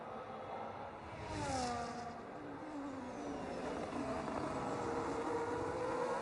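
Racing cars from an online racing game at the Interlagos circuit in Brazil, engines whirring and revving steadily with a passing whoosh, continuous and moderately loud with no talking.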